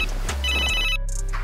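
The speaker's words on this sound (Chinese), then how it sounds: "此时李叔叔正好给胖子打来电话" A phone ringtone for an incoming call in a 2024 boxing action film plays as a brief electronic tone lasting about half a second, clear over a steady low background rumble.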